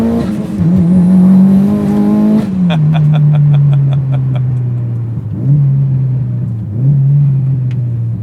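A Mitsubishi Evo 9 engine revs loudly and close by, rising to a high whine, then dropping into a rough, sustained idle-level drone with brief blips of throttle.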